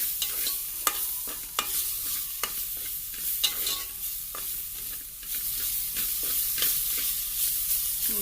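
Sliced onion, browned and now mixed with ginger garlic paste, frying in a pan for a broccoli drumstick curry: a steady sizzle broken by repeated sharp scrapes and clinks of a spoon stirring, with no one talking.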